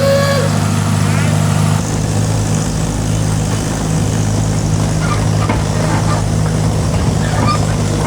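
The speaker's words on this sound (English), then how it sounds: "We all decided it was pretty nice tooling around on a tractor here in the evening." A tractor engine drones steadily and loudly throughout an evening ride, a continuous low rumble with wind noise over it.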